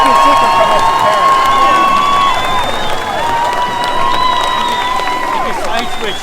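Crowd of counter-protesters at an outdoor rally in Kitchener, Ontario, heard as a loud, continuous roar of voices with cheering and some shouting and whistle-like tones, people talking nearby throughout.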